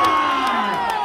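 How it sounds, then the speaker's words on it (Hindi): Spectators at a semi-final local cricket match shout and cheer, a loud continuous crowd roar filling the whole brief moment. "अरे दर्शक चिल्लाएंगे नहीं तो क्या मजा आएगा."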